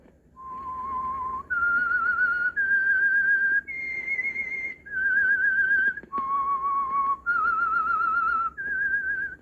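A clear, close whistled tune of sustained notes stepping up and down in pitch, with short pauses between phrases and no voices; the theme of a 1948 radio mystery drama.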